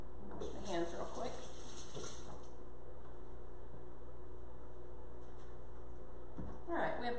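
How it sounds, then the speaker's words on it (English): Tap water runs steadily into a sink while hands are washed beneath it, a continuous close hiss and splash that fades near the end, with brief kitchen clatter mixed in. "Wash my hands real quick."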